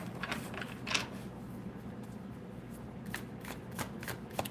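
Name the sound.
tarot cards being shuffled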